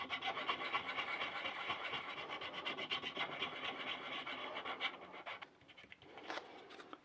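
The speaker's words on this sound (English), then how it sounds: "Do some hand sanding." Continuous rough rasping from rapid back-and-forth hand sanding on a metal Glock trigger guard, close and steady, easing off and turning sporadic near the end.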